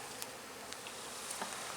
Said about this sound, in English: The bees are buzzing.